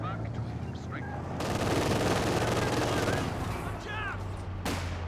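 Battle gunfire in a Company of Heroes 2 two-versus-two match rattles in dense, overlapping bursts of small arms and heavier weapons, with a voice faintly underneath.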